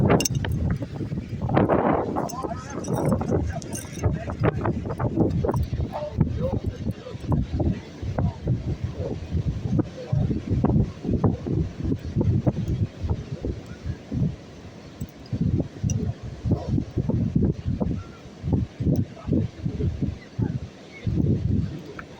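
Strong outdoor wind buffets the microphone in irregular gusts and rumbles throughout, loud and close, with no clear speech over it.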